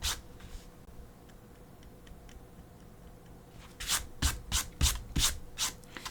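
A small speck of paint being scraped off an artwork in a string of about eight short, crisp scratching strokes, close and clear, following a quieter stretch of faint ticking and rubbing.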